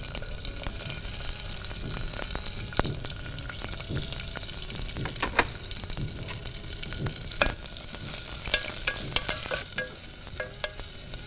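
Long-sliced onions fry and sizzle in hot oil in a pan, a constant crackle broken by scraping stirs and sharp ticks from the utensil.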